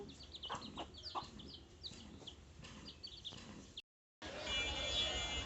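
Several chickens cluck and chatter nearby in a rapid, uneven stream, broken by a brief gap before the flock noise resumes louder.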